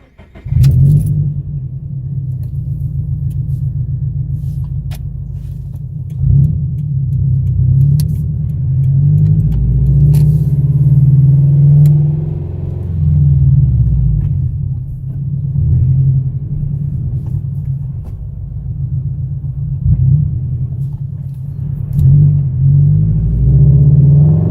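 Scion FR-S with its exhaust silencer removed, cruising on a highway: a deep, loud droning rumble from inside the cabin, swelling and easing as throttle changes, with a brief climb in pitch around the middle.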